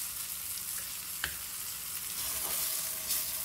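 Chillies for mirchi masala fry in a pan with a soft, steady sizzle and hiss, a single faint clink of stirring partway through, low in level and without speech.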